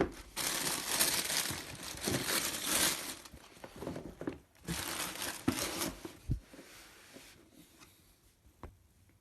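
Off-white tissue paper crinkling and rustling as sneakers are lifted from a shoebox, several bursts of close crackle with short pauses between, no talking.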